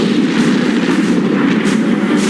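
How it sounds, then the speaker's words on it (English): Battleship Bismarck's naval guns firing a salvo at battleship Rodney, a loud, dense rumbling blast of heavy artillery that fills the short moment with sustained low thunder. "open fire on the aged battleship Rodney"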